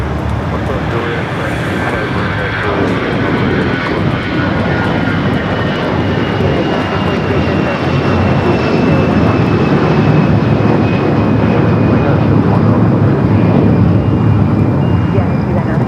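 Airplanes at Los Angeles LAX airport at night, a steady loud roar of aircraft engines and a long continuous drone that fills the whole stretch without pause.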